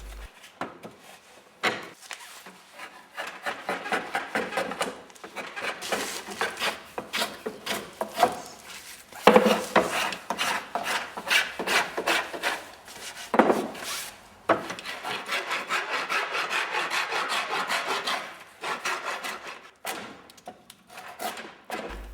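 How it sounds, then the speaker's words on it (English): Willow cricket bat blade being hand shaped with a draw knife and spokeshave, giving repeated rasping wooden strokes in quick runs with occasional thuds, close and fairly quiet, with no talk. "The final shaping of the blade of the bat is done by hand, using a draw knife and spoke shave."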